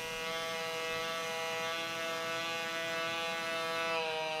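Pulsed MIG welding on aluminium with 4043 wire and argon shielding gives a loud, steady buzzing drone with a tonal, harmonic-rich hum, continuous for several seconds before cutting off abruptly.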